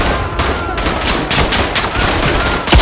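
Gunfire in the World War I shooter Verdun, with loud, dense bursts of rifle and machine-gun shots cracking in rapid succession at close range throughout.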